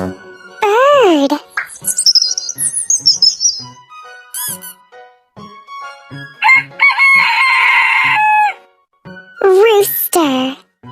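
A rooster crows several times in loud, rising-and-falling calls, with other bird sounds in between and a person speaking over parts of it.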